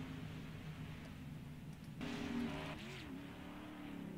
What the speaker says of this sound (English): the 6 of Andre Chicom does his burnouts